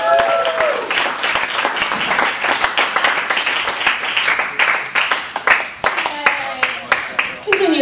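Comedy club audience applauding after a stand-up set: loud, dense clapping from a crowd close by, with some whistles and a voice speaking over it.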